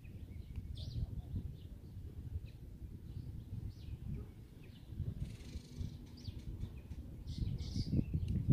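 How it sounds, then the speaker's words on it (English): Two birds chirp faintly and sporadically in the distance over a steady low rumble of outdoor background noise. "Those two birds that you hear there"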